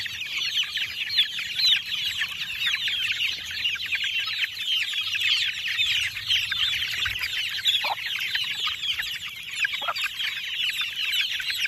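Chicks cheep constantly in a dense, high-pitched chorus, close and busy, with occasional clucks from the flock.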